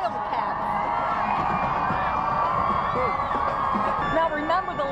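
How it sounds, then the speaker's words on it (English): Villanova Wildcats fans in a sea of blue and white cheer loudly and steadily as a dense crowd, with whoops and shouts rising above the roar throughout. "guess who's in the sea of blue and white as people cheer on their Wildcats?"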